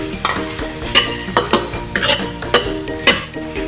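Egg stirred into corned beef in a pan with bitter gourd, rhythmic spoon scrapes and taps against the pan every half second or so over a low sizzle, close and without speech.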